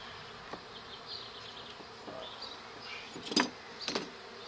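Honeybees from a swarm buzz around a hive, soft, overlapping hum with a few louder passes of individual bees flying close near the end.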